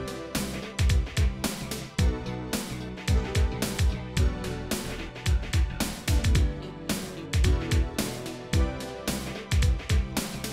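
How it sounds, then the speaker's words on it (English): A New Jack Swing beat for a 90s R&B track plays its tom pattern, with punchy, pitched drum hits falling in a busy, syncopated groove over sharp snares and kicks, loud and continuous without any talking. "I have a multitude of patterns featuring toms, which sound like this"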